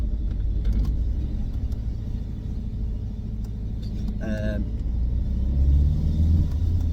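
An Alfa MiTo with a suspected blown turbo idles and rumbles steadily nearby, a low droning engine note holding throughout with a brief higher whine partway through and some swell near the end.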